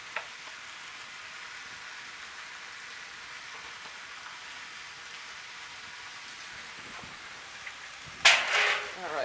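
Catfish fillets fry in a skillet with a steady, soft sizzling hiss throughout, ending in a sudden louder burst of crackling spatter near the close.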